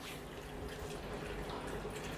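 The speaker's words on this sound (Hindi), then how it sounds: "ये देखिए पानी आपने निकाल दिया।" Water drains steadily out of an SD501 machine during its e-cleaning, a faint, continuous trickling and dripping flow heard alone.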